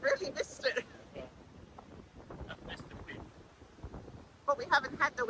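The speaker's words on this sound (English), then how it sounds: "we haven't had the wind till we came out here. It's just a bit of a blowy morning" Blustery wind buffets the microphone at coastal rocks on a blowy morning, rising and falling in uneven gusts, with people talking briefly at the start and end.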